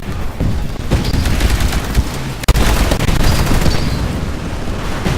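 Rapid, dense gunfire fills the battlefield of the video game Titanfall, a continuous loud volley of shots with one sharper crack near the middle and no talking.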